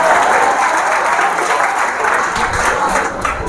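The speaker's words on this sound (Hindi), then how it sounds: "तालियां होनी चाहिए इसके लिए यार." An audience at a 10th class career guidance program for students claps loudly and continuously for a student, the dense applause filling the hall before tapering slightly at the end.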